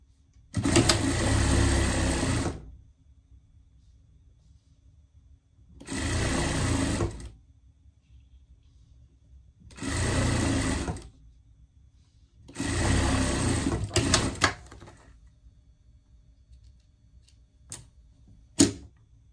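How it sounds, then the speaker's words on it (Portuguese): A sewing machine runs a safety seam on pet pajamas. It goes in four steady bursts of fast stitching, each lasting a few seconds, with quiet pauses between them and faint clicks near the end. "E aqui a gente vai passar uma costura de segurança, tá?"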